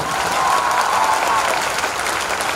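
Sustained audience applause at a Hindi comedy poetry recital, steady dense clapping filling the whole stretch at even loudness, with no voice over it.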